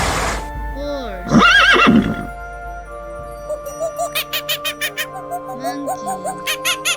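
A horse neighs in a loud, drawn-out whinny near the start, followed by a quick run of rhythmic high chirping bird-like calls over a low background hum.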